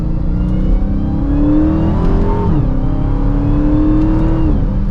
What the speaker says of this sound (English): And we get to have another acceleration here.